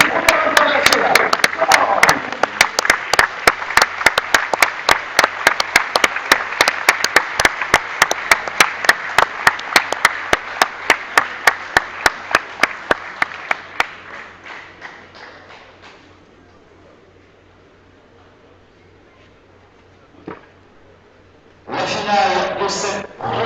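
Audience applause greets the champions entering the final of an international tête-à-tête pétanque tournament, a dense sustained clapping that fades out over about fifteen seconds, followed by a lull and a brief burst of noise near the end.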